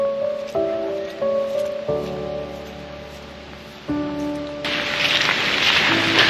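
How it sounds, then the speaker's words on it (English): Heavy rain falls on a playing field in Wellington, a dense, loud hiss that swells in near the end after soft sustained musical tones. "I think it's pretty good heavy rain."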